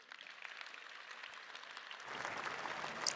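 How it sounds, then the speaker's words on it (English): Audience applause at a political speech in Poland, a steady broadband patter of many hands clapping that swells louder toward the end, with no talk over it. "Wait for the applause."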